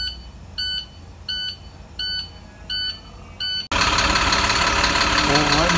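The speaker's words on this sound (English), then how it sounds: "right now the engine seems to be running somewhat decently" A Maxxforce DT diesel engine running after an in-frame rebuild, a steady loud idle that takes over after a series of five short electronic beeps.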